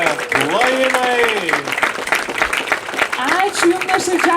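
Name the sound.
applause from festival concert audience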